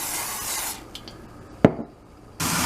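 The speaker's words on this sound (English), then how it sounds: "Got my pan, got my cooking spray." Cooking spray hisses onto a pan in a single short burst, close and fairly loud, in a kitchen with steady background noise while chicken stir fry noodles are being prepared.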